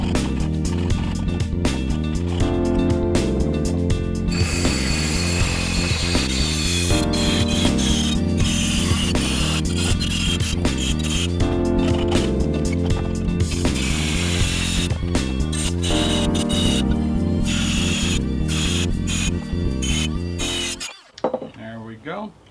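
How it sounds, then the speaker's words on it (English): A power tool cuts through a soft aluminum aircraft cowl with a loud, continuous buzzing whine that stutters in places, then cuts off abruptly near the end; someone talks over it. "I'm going to go ahead and cut this off here. It's nice and soft. It's just aluminum"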